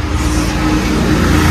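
A car drives along with a steady, loud engine drone and road rumble heard from inside, continuous and unbroken, with no one talking.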